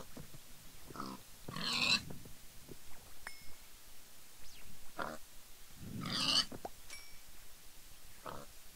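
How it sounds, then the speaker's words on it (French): Minecraft pigs giving several short oinks and grunts, spaced apart over a quiet background, with a few faint clicks between them. "Et tuer les autres cochons."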